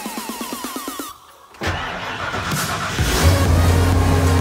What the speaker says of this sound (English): Well, fired right up.